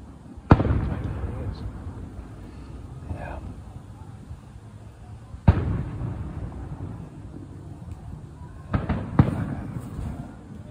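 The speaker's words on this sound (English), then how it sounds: "Their fireworks are loud." Fireworks boom in the distance on a holiday night, three or four deep, heavy bursts spaced several seconds apart with rumbling tails, while people talk nearby between the blasts.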